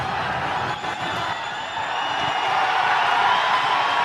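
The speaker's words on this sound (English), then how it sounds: "The roar gets louder." A cricket stadium crowd roars after a boundary in a Nepal versus USA match, a steady, loud wash of cheering that swells slightly toward the end, with no clear individual voices.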